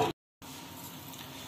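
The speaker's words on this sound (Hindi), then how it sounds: "देखिए, हमारा ग्रेवी खोल गया, कितने अच्छा उबाल आया है इसमें।" Bottle gourd kofta gravy boils in a pan with a soft, steady bubbling sizzle after a brief cut-off at the start.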